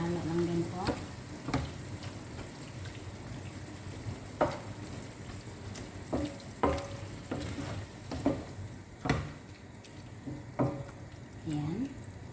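Tomato poured into a hot pan sizzles and fries, with a steady crackle broken by repeated clanks and stirring scrapes while a person talks over it.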